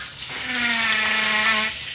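A power drill bores into the trunk of a planted agarwood tree about twelve years old, giving a steady, close whining hum with a faint rising tone, held for under two seconds against background hiss.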